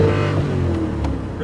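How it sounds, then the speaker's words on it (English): A 1972 De Tomaso Pantera engine is held against its rev limiter in a loud, close, sustained roar that wavers slightly, with no talk over it. "Rev limiter."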